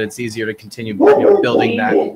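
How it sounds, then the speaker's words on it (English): A dog barks repeatedly in the background, short sharp yips overlapping someone talking close by. "Sorry about the dog."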